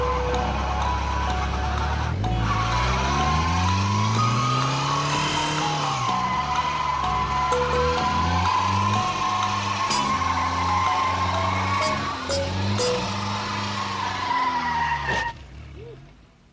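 Toyota four-wheel drive car with its rear wheels spinning on boards, a loud engine revving up and down with squealing, skidding tires, continuous and close until a sudden stop near the end.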